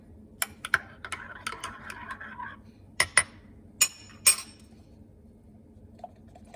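A spoon clinks against a cup while stirring milk into a homemade keto Starbucks-style drink: a handful of sharp, close, bright clinks in short bursts with quiet gaps between, and no talking.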